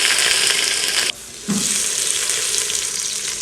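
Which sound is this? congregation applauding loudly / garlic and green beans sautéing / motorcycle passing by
garlic and green beans sautéing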